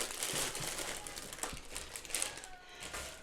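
Plastic packaging holding a hank of yarn crinkles and rustles continuously as it is handled and opened up close, a dense crackly texture with a few sharper crunches.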